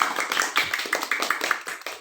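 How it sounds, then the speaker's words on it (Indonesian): Children clap their hands together in a loose rhythm during a school athletics lesson, with about a dozen sharp claps close by, a few voices mixed in. "Ya, tepuk tangan buat kita dulu."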